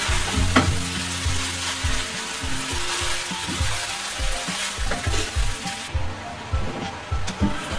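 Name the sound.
stirring and frying vermicelli in a pan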